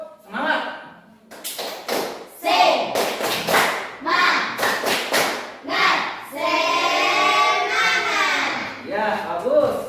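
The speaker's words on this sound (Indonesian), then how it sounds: "Ya, tepuk semangat." A school class does a rhythmic clapping chant, the tepuk semangat, with children's voices chanting between sharp bursts of unison claps, close and loud in an uneven patterned rhythm.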